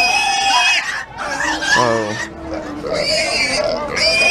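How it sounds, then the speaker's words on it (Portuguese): A breeding sow squeals and oinks at a pig and sheep livestock fair in Capoeiras, Pernambuco, with loud shrill cries repeating close by while people talk over the commotion. "um porco. Uma porca paredeira."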